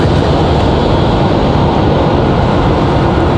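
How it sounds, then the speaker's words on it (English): A CRJ regional jet departs Raleigh-Durham International Airport, its engines a loud, steady broadband roar that holds constant throughout, with no voices over it. "CRJ departing right now."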